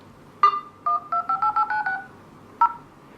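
Keypad tones on a OnePlus One phone dialer play over speakerphone: single beeps, then a quick run of about six touch-tones, then one more after a pause, clear and close against near silence.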